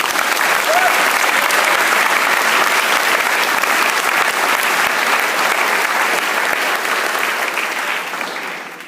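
Loud, dense applause from a large room of guests at a gala, steady throughout and fading slightly at the very end.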